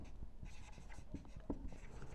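Chalk or marker writing on a board during a class lecture on the thyroid gland, with short scratchy strokes in an irregular rhythm, fairly faint and close, with no talk.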